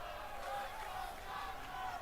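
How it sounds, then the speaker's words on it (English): Wrestling crowd at a WWE Raw event in Glendale, Arizona, a steady roar of arena voices that swells slightly, heard from a distance without a break. "Crowd is getting loud here in Glendale,"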